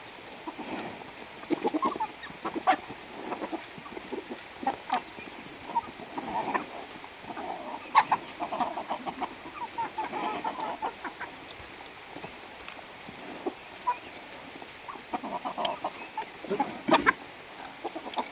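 Chickens and ducks on a rural Thai farm where corn has been grown, clucking and squawking continuously at moderate distance, with scattered louder calls over a quiet outdoor background.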